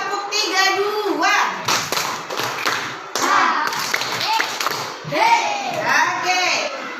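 Children in a classroom play a concentration clapping game, clapping together in short rhythmic bursts of sharp claps, between stretches where an adult and the children speak.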